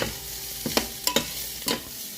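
Roasted pork filling for BBQ pork buns stirred in a pan, with a handful of distinct scraping clinks of the utensil against the pan over a faint background sizzle, no talking.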